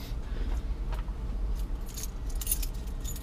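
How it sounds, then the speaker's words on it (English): A keyring holding a P52 can opener jangles up close, with light metallic clinks and rattles that cluster into brighter bursts toward the end over a soft handling rustle. "Guess we'll start with my keys"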